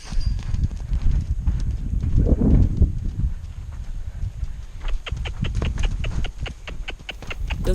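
Weanling buckskin stud colt by Rolling Rodeo Drift moving about during his first roping, hooves clip-clopping in a rapid run of close, crisp strikes toward the end over steady background noise.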